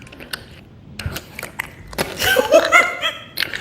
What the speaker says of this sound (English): I just have a cough drop and it's just tinking against my teeth.